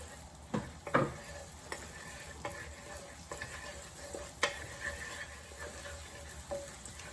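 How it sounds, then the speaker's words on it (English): Garlic sautéing in oil in a hot wok, a soft continuous sizzle broken by scattered clicks and scrapes of stirring, close and fairly quiet with no talking. "I'm gonna saute my garlic"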